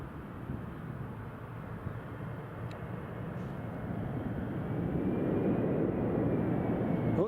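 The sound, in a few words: jet airliner engines at Newcastle airport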